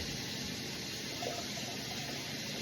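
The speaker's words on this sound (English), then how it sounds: "you want to fill this can back up twice with water" Water pours steadily into a metal can for cooking beans, a dense continuous rushing flow at close range throughout, with no voices.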